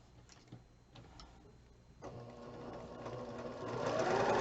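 A home sewing machine stitches quilt fabric pieces together for a Christmas block, its quiet rhythmic whirring building steadily louder toward the end, close by with no voices.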